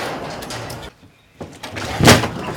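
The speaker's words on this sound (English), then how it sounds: "I'm gonna open up the door." A primate transport cage's door slides and clunks open during an arrival at a primate sanctuary, a close rattling scrape and thump after a brief quiet pause, with no talk.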